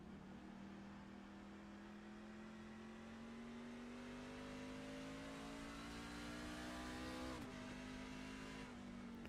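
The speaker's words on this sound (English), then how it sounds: "side-by-side racing action out in front of him" Race trucks running side by side on an oval track during a truck series race, engine drone climbing steadily in pitch as they accelerate, with a brief shift near the end, heard faintly from a distance.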